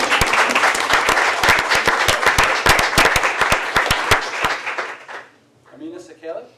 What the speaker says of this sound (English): Applause is appropriate.